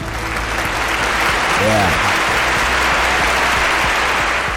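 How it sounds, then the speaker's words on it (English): An audience at a financial talk event applauds loudly and steadily, with a short voice heard briefly over the continuous clapping. "I think that one deserves an applause"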